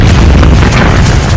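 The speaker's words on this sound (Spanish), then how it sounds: "estamos hablando de docenas de megatones de energía" A huge cosmic explosion over Sodom, rendered as a loud, deep, rolling boom that fills the whole moment with dense low rumble and no voices.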